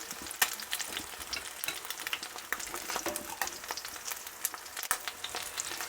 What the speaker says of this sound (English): To fry the egg, then turn it over and fry the yolk so it goes hard.